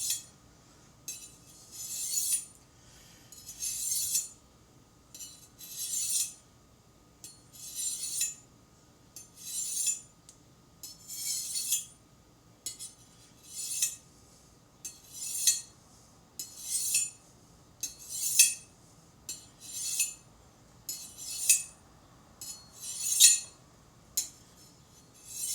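Steel kitchen knife drawn repeatedly along a honing rod while preparing a sausage skillet, giving crisp metallic scrapes in a steady rhythm of about twenty strokes, close and clear with no talking.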